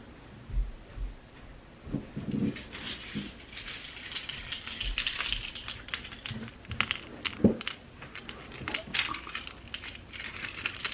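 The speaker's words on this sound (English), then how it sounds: "Let me show y'all my keys." A set of keys jangles and clinks near at hand in scattered bursts, with the metallic rattles rising and falling over several seconds against a quiet room.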